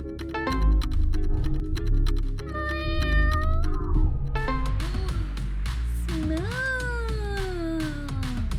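A person imitates a cat with drawn-out, wavering meows while playing a Simon Says game, the voice sliding up and down in pitch over background game sounds and talk.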